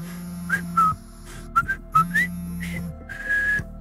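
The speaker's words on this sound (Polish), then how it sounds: "Gwizdany motyw z mostu na rzece Kwaj." A phone ringtone whistles the Bridge on the River Kwai theme: short, clear whistled phrases of the march melody, close and alone over a quiet background.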